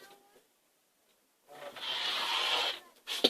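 Quilt fabric is trimmed with one steady, close scraping cut lasting just over a second, followed by a short rustle of handling.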